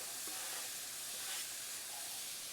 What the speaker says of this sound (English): You want to hear a little sizzle.